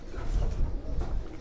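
Ferozpuri Faqeergull mix-breed pigeons cooing close by, low soft throaty coos rolling on through the short stretch with no talk.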